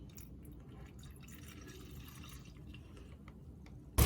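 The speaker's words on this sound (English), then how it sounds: "tilt this with the bottle flat this way so that the water, or the coolant goes in easier" Coolant pours steadily into the cooling system of a 3.2L Audi TT mk2 from a bottle held flat, a continuous low liquid gurgle and trickle heard close up, ending in a sudden loud knock.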